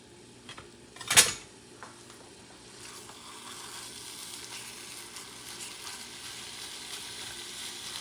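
Ground beef browns in a pan without oil for taco pizzas, giving a steady, even sizzle, with a sharp metallic clank of utensil against pan near the start.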